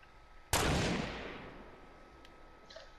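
A single loud gunshot from a nearby enemy in a shooter game cracks sharply and then fades in a long, echoing decay, with a faint click and soft sounds after it.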